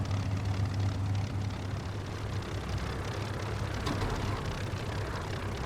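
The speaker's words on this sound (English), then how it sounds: "the Merlin again purring away" Steady, muffled drone of a Spitfire's Merlin piston engine in a flight simulator game, running evenly at moderate volume throughout with no voices.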